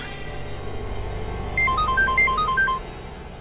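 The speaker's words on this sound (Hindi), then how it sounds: "बुल्टो को फोन लगा था।" A mobile phone ringtone sounds during a call in an Indian TV drama scene: a short run of bright electronic melodic beeps that starts after a quieter stretch, clear and close, then cuts off.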